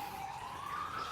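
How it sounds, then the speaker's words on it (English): An ambulance or fire truck siren wailing outside, a faint, steady rising tone heard at a distance with no talk over it. "Got a little ambulance or fire truck going on."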